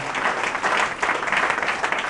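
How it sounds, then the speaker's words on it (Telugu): A large church congregation claps loudly and continuously, the applause swelling slightly in waves, close and full. "నమ్మితే గట్టిగా చప్పట్లు కొట్టి"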